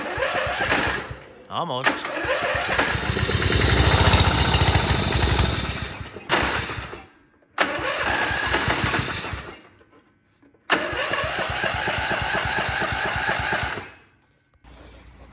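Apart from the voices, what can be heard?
Gravely 1434 zero-turn mower engine starting and running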